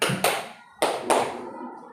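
A group of people clap their hands in sharp, sudden bursts, a few quick claps close by with short gaps between them and no talking.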